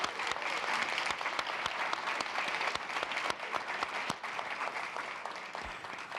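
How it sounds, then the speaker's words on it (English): Festival audience applauding the panel at an innovation event, a lively round of many hands clapping with a few sharper nearby claps, tapering slightly near the end. "give them a round of applause"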